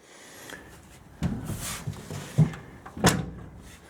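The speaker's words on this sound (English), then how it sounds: "My door will close over here." A door on a 1929 Chrysler being worked on with Fiero bucket seats shuts with a moderately loud thunk, preceded by a few softer knocks and rattles in a quiet garage.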